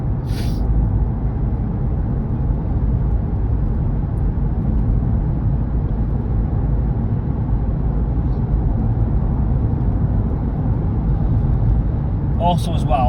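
Car interior on a UK motorway, a loud constant rumble of road and tyre noise throughout, with a brief clatter near the end.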